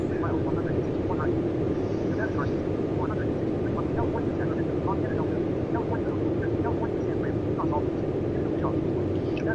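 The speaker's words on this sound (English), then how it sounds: "It's a Black Hawk." A Black Hawk helicopter drones in a flight simulator game, a constant low engine and rotor rumble heard for nearly ten seconds, steady and loud, with a person talking over it.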